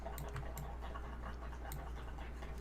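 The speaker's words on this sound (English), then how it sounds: "can you hear my dog?" Dog panting and scratching at itself nearby, soft rhythmic breaths with scratchy rustles over a low steady hum.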